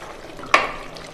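A spoon gives one short, clear scrape while stirring tomato rice masala in a cooker, set against a soft, steady sizzle.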